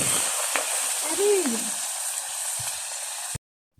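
Crisp Point Pedro–style thattu vadai frying in hot oil, a steady close hiss with a few ladle knocks and a brief faint whine, running for about three seconds before cutting off abruptly.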